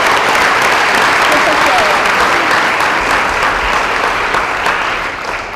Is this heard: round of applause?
yes